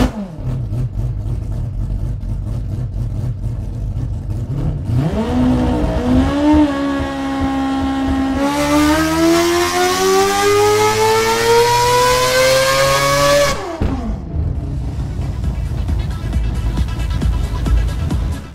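Mazda 787 rotary race car revving hard on a dyno, a loud piercing wail that climbs in pitch through several sustained pulls, then cuts back to a rough, rumbling idle.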